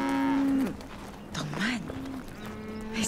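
Cattle mooing in a period film drama, with several long, drawn-out moos close by and a brief pause between them.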